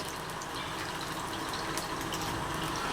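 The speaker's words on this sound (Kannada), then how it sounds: "ನಾನು ಇಲ್ಲೊಂದು 1/4 ಲೀಟ್ರಷ್ಟು ಎಣ್ಣೆ ಬಿಟ್ಕೋತಾ ಇದ್ದೀನಿ" A steady, continuous liquid pour as about a quarter litre of cooking oil goes into a pan for frying urad vada, an even gushing wash with no gaps.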